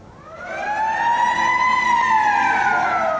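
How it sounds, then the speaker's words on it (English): A loud, sustained hockey arena siren wail rises and holds steady for a few seconds, ringing out alone over a low rumble at the Bell Centre. "The siren goes."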